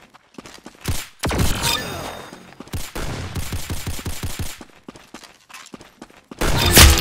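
Video game gunfire from Arsenal: bursts of rapid shots crack out in quick volleys, some dense and loud, with pauses between, and a heavier burst near the end.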